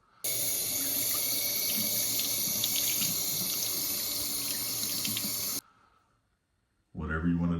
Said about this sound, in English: You can clean it under the faucet.